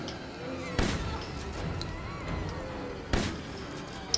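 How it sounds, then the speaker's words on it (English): Two loud blasts from a shotgun in Resident Evil Village, about two seconds apart, each a sharp report with a short ringing tail over quiet game ambience. "But you can taste some of my shotgun."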